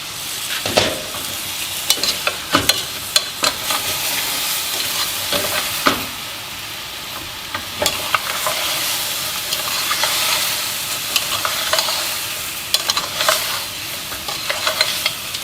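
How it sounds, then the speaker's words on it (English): Lemongrass chicken is stirred in a hot pan, with close scraping and clacking strokes at irregular intervals over a constant frying sizzle and hiss. "So you stir it every now and then to avoid the bottom from being burnt."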